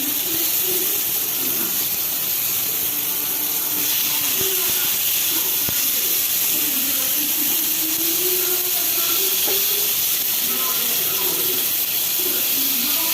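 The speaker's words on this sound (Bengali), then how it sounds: "এই তো পটল ভাজা শুরু করে দিলাম।" Pointed gourd (potol) fries in a pan with a loud, steady hiss of oil that runs unbroken from start to finish, with faint background voices murmuring underneath.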